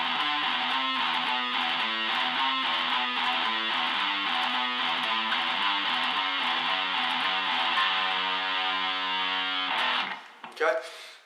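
A distorted electric guitar plays a fast riff with rapid triplet picking between notes, loud and steady, ending in a brief scrape and pause.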